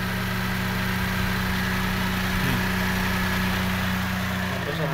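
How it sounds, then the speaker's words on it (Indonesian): A used car's engine idles with its AC compressor running normally, giving a steady, continuous mid-low hum and drone with no knocking, close and constant throughout. "Kompresor AC suaranya normal"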